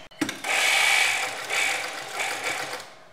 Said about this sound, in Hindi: अब हम इस तरफ सिलाई लगाएंगे, बखिये को हम नॉर्मल कर लेंगे।